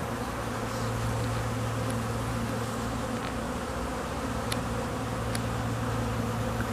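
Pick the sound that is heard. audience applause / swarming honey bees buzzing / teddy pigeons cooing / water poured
swarming honey bees buzzing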